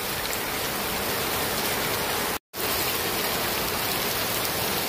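Heavy rain and wind pour down in a dense, steady, close-up hiss that fills the whole stretch, broken only by a very short silent gap midway.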